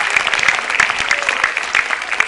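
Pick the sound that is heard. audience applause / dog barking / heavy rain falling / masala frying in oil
audience applause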